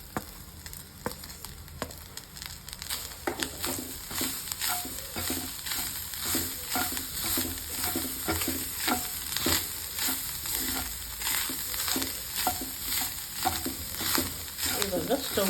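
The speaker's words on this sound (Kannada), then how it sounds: "ಈ ಟೈಮಲ್ಲಿ ತೆಂಗಿನಕಾಯಿನ ಸ್ವಲ್ಪ ಫ್ರೈ ಮಾಡಬೇಕು ಅನಿಸಿದ್ರೆ ಅದ್ರ ಜೊತೆ ಹಾಕಿ ಫ್ರೈ ಮಾಡಿ" Coconut frying together with turkey berries in a hot pan for a chutney, giving a steady sizzle with repeated stirring scrapes throughout.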